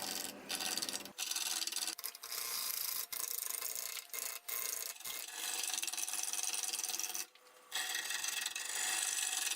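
A maple bowl blank is roughed out on a wood lathe, giving a loud, continuous scraping and rasping of the gouge against spinning wood, broken by brief pauses and catches.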